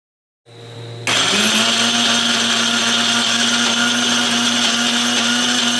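A blender grinds spice paste dry, with no water, starting with a low motor hum and then rising to a loud, steady high-pitched whir that holds to the end, with no talking.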